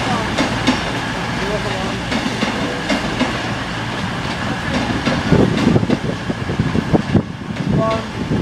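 Two-car passenger train on a line toward Pembroke Dock in Wales, a steady rumble with rail clatter building and swelling louder near the end as it passes, with people talking in the background.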